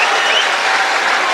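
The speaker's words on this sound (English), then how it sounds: "the majority of people are cheering" Crowd at a Commonwealth Games women's tennis singles final in a packed arena, cheering and applauding in a loud, dense, continuous roar.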